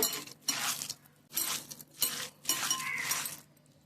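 Leftover cooked rice being mashed with a utensil in a bowl, five or six close scraping, clinking strokes in an uneven rhythm with brief quiet gaps between them.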